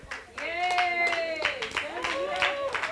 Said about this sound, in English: Please, guys, let's clap for them.